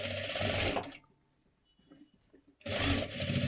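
A sewing machine runs a double line of stitching along a folded edge of sari fabric for a girl's jacket, two loud steady bursts of needle whirring split by a quiet pause.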